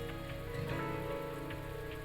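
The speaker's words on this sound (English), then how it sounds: "the sound of water drumming against the building seems to grow louder with the passage of time" Heavy rain drums steadily against a building in a visual novel, making a dense, constant patter with scattered louder drops and no voices.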